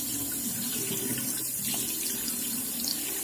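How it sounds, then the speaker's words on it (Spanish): Water runs from a tap into a sink in a steady, close, continuous splashing stream with no speech over it. "voy a echar un poco de agua"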